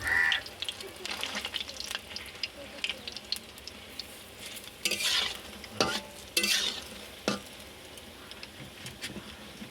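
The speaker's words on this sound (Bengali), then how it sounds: "এরকম লাল লাল করে ভেজে নিতে হবে" Prawn fritters deep frying in hot oil, an uneven sizzle with bursts of bubbling and stirring clatter, crows calling faintly in the background.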